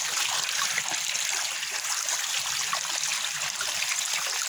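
Hot running water pours steadily over tripe as it is washed, a continuous close hiss of flowing water with no voices.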